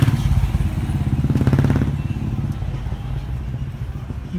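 A motorcycle engine idling and revving in a motorcycle parking lot, a close, rapid thumping exhaust pulse that swells briefly before settling back to a lower chug.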